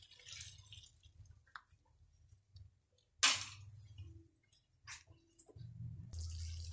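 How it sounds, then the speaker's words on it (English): Dissolved cornstarch water is poured into a pan of chop suey, giving faint intermittent liquid trickles and drips with one brief louder splash, quiet and close. "Lagay rin natin yung cornstarch na dinissolve natin sa 1/2 cup of water."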